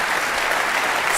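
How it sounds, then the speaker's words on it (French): A short, loud burst of dense clapping from the audience at a regional awards night in Meuse and Haute-Marne. "Merci d'applaudir chaleureusement"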